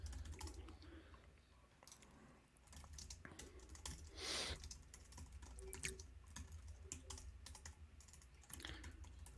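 Quick bursts of typing on a computer keyboard while writing a makefile, soft uneven key clicks in flurries and pauses, close but quiet.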